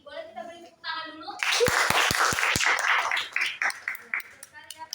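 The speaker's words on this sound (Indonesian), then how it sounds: "Boleh kita beri tepuk tangan dulu?" A classroom of students in a microteaching lesson claps together, a short burst of sharp individual claps that grows into a brief round of applause, framed by a teacher speaking before and after.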